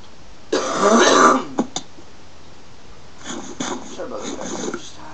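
One harsh, close cough bursts out early during a Minecraft gaming recording, followed by a couple of small clicks, then quieter muffled throat sounds and faint voice-like noises after a short pause.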